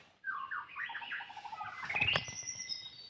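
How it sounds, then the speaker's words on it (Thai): A white-rumped shama calls in forest near dawn, a lively run of bright chirps and whistled phrases that climbs into a louder burst of squawky notes, close and clear with no talk. "นกกางเขนดงนะครับ เขาบินวนไปวนมาทั่วเลยนะครับผม"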